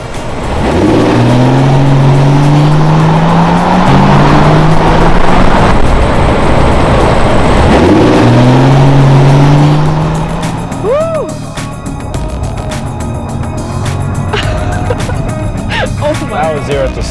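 A Rolls-Royce Cullinan Black Badge pulls hard from 0 to 60, its engine note rising steadily through loud, near surging upshifts for about ten seconds, then easing into a quieter cruise while people talk inside the cabin.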